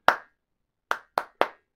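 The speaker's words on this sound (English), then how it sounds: "where you clap your hands" Hand claps aimed at music-sync LED marquee letter lights with glitter alphabet letters: one sharp, close clap, a pause, then three quick claps in a row, each crisp and alone in a quiet room.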